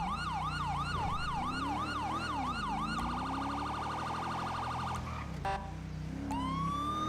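Police car sirens in a roleplay video game, cycling through a fast wail that switches to a rapid yelp and then a short burst of other tones. The sirens ring loud and close over a steady engine drone.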